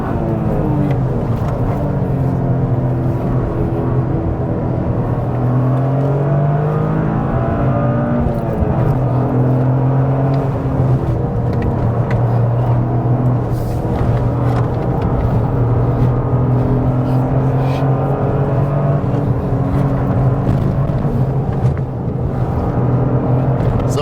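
Toyota GR Corolla driven hard up a hill climb course, engine note rising and falling with gear changes, steady loud in-cabin drone throughout the run with no talk.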